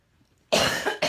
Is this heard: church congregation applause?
no